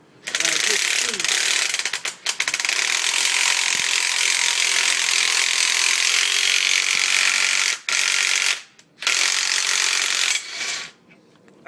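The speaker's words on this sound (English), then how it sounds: "So now, I have a power driver, and I put it on there, and I just squeeze." A power driver turns a C-clamp to push brake pads back into the caliper, a loud continuous whirring grind that runs for several seconds at a time with a few short pauses between bursts.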